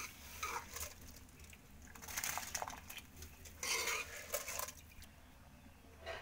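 Rice is poured into a cooking pot of kanji with urad dal, making a faint, scattered patter of grains and light metallic clinks that come in uneven waves.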